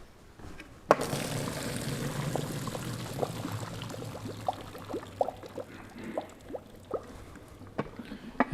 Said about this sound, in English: Drain our pasta.